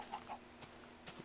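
Chickens in the Minecraft video game cluck softly in a few short, faint calls spread across a quiet moment, with no voices present.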